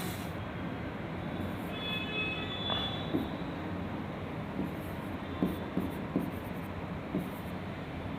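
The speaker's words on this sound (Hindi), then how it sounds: "फिर अच्छे से लिखते हैं" Chalk or marker writing on a board in a classroom during a map-reading lesson, a few faint scratchy strokes over a steady low background hum, with no one speaking.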